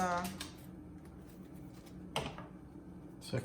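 A few crisp snips of scissors cutting a tea bag tag sound up close, spaced apart, with a person talking briefly at the start.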